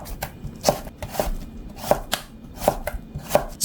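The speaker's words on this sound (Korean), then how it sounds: "판자처럼 저민 노각은 도톰하게 채 썰어요." A knife chops sliced old cucumber (nogak) into thick strips on a cutting board, giving a steady series of crisp, close thuds about every half second.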